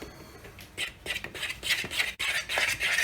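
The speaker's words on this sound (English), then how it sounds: "I basically just stir it with a fork until it looks like kind of batter that I would pour into the pan" Fork stirring banana bread batter in a bowl, a run of scraping, clicking strokes close by with uneven rhythm and no talking.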